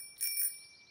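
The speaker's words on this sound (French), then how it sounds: "c'est la sonnette le plus important parce que ça fait un son très joli" A bicycle bell gives one bright, shimmering ring, a short burst of clear metallic tones that fades quickly and sits fairly faint over a quiet background.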